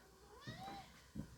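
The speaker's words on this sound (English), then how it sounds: "That's my cat. What do you need, buddy?" A black cat gives one clear, rising-and-falling meow near the listener in a quiet kitchen, followed by a brief softer chirp.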